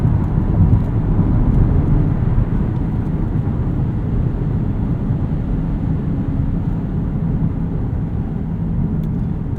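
Steady broadband road and wind rumble inside a 2025 Lexus UX 300h F Sport hybrid while driving, a constant low hiss and drone at moderate level with no talking.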